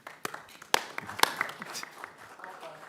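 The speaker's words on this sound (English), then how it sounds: "That was a very prompted applause right there." Scattered applause at a Board of Aldermen meeting, a few sharp, sparse claps spread unevenly over nearly three seconds, with faint talking underneath.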